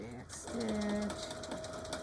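A sewing machine runs a back stitch on a Christmas quilt made of half-square triangles, a quiet, steady mechanical hum lasting about a second and a half, heard close with someone speaking briefly.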